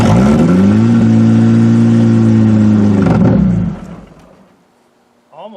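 An old Buick iron duke engine is held at high revs on the gas pedal, a loud steady roar close by that falls off to quiet idle after about three seconds. A brief voice follows at the end.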